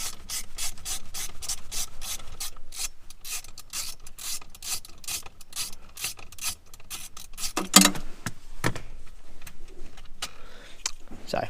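A ratchet with a 7mm socket undoes a bolt on a Ford Transit Custom seat, rapid close clicking in steady bursts, a sharp clatter partway through, then softer handling noises.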